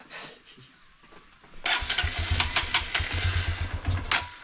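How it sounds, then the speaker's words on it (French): A motorcycle cranks and catches after a quiet stretch, then settles into a steady, throbbing idle close by, on a rainy day in northern Vietnam's Ha Giang mountains. "La moto démarre."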